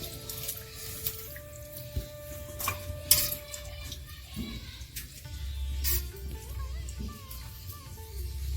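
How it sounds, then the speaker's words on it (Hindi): Chicken pieces are washed in water in a village kitchen, with splashing and pouring, drips, and light clinks of a vessel, close and fairly quiet with no talking. "इधर हम पहले पानी से धोएंगे, तो उसके बाद में कुछ धोएंगे। पहले एक पानी ऐसे धो लेते हैं।"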